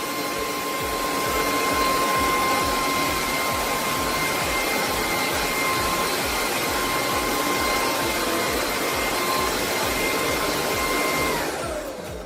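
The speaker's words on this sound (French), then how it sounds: "je vais m'attarder un petit peu sur le bruit que fait cet aspirateur" A Bissell Icon 21V cordless stick vacuum cleaner runs steadily up close, a loud continuous whine with a high motor tone that winds down at the end.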